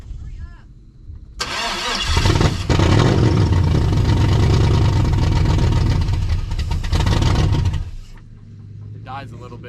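An LS-swapped Chevy S10 Blazer cranks and starts, then runs loudly and steadily close by for several seconds before cutting off, with a voice heard around it.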